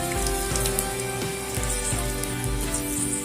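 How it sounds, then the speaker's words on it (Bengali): Whole garam masala, bay leaf and a dried chilli fry in hot mustard oil for a mixed vegetable dal, giving a steady, even crackling sizzle throughout with no voices. "ফোড়নে দিয়ে দিচ্ছি গোটা গরম মশলা, তেজপাতা ও একটা শুকনো লঙ্কা। ফোড়নটা একটু হালকা ভেজে নেব।"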